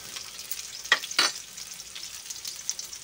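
Onion sautés in oil for chicken adobo, giving a soft continuous sizzle with a couple of brief louder scrapes or stirs near the start, close and fairly quiet, with no talking.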